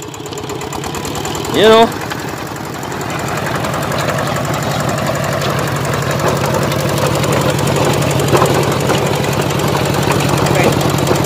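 A Kubota K-900 tractor engine runs steadily throughout, a low continuous rumble with a brief louder burst early on, while people talk over it.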